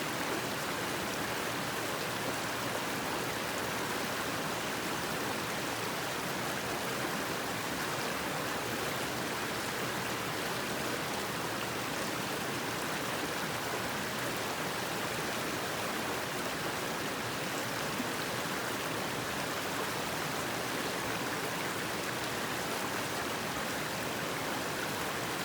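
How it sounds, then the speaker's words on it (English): A small brook with a little pool of very clean water flows steadily, a soft, even wash of running water that carries on unbroken throughout with no voices. "Beautiful little brook. Nice little pool."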